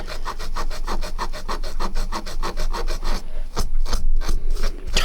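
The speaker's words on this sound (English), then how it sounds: "I've just got a piece of Scotch-Brite, and I'm just going to try to remove some of the pitting and" Close, steady back-and-forth scrubbing of a Scotch-Brite pad over a pitted, tarnished metal case, loud rasping strokes in quick even rhythm, then a few looser, irregular rubs near the end.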